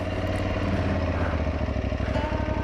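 A steady, fairly loud Aprilia Tuareg 660 motorcycle engine rumbles evenly at close range with a low idle-like throb, ridden off-road, with light clatter and no talking.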